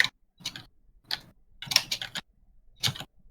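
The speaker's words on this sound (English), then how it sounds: "you can hear my keyboard going" Computer keyboard typing in irregular bursts of quick clicks, a few keystrokes at a time with short pauses between, close and fairly clear.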